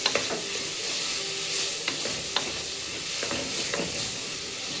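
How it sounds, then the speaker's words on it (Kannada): Vegetables and garlic cloves frying in a pan for a vegetable masala sagu, a steady close sizzle and hiss broken by occasional scraping clicks of stirring, with no voices. "ಫ್ರೈ ಆದಮೇಲೆ ಒಂದು 4-5 ಎಸಳು ಬೆಳ್ಳುಳ್ಳಿ ಹಾಕ್ಕೊಳ್ಳಿ ರುಚಿಗೆ. ಫ್ರೈ ಆಗ್ತಾಯಿದೆ."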